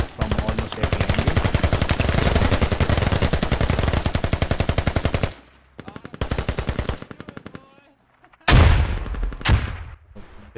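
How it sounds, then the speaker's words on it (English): Rapid machine-gun bursts rattle continuously in the Squad multiplayer war game, then break into scattered shorter volleys and a sharp heavy blast near the end, loud and close with distant shelling beneath. "there are bombs being shelled upon us from almost every angle"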